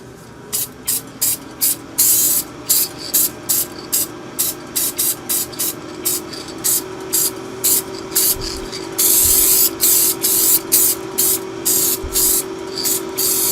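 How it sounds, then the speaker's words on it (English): Short bursts of hissing spray from an airbrush applying clear coat to a 3D-printed fish repeat in a steady on-off rhythm, close and fairly loud, with a faint fan hum running underneath throughout. "we're going to give it a clear coat"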